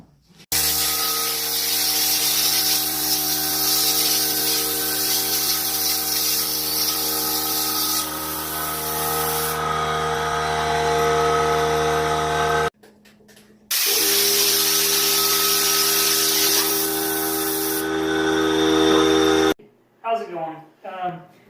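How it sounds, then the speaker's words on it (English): Texture spray gun spraying ceiling texture: a loud, continuous broadband hiss with a steady compressor hum beneath, running in two long bursts with a short pause between, then stopping as brief speech follows. "I'm going to start spraying, and I'll show a little bit of video of me spraying in a minute"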